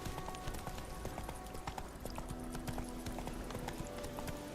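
Horse hooves clip-clopping on a road in The Witcher video game, a quiet, steady run of rapid hoofbeats throughout with faint game ambience and no talking.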